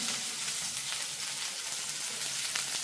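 Green chillies and curry leaves sizzling in hot oil, a steady, dense hiss that fills the clip without a break, close and even, with faint stirring scrapes beneath.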